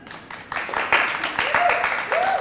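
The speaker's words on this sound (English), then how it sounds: "clap your hands!" Audience clapping hands after a call to clap: scattered, uneven claps that build from a few hands into a looser burst, mixed with voices talking over them.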